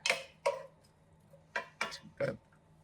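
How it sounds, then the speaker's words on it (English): Onion stirred in a cooking pot with a spoon produces five sharp, distinct clinks and scrapes against the metal, spaced irregularly and fairly quiet, with no talking. "So we're going to add the onion first. And give that a stir."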